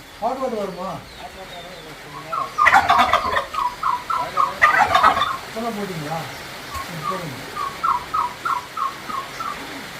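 Turkeys gobble in repeated rattling bursts, loud and nearby, at a resort in Bandipur, India, while someone talks between and under the calls.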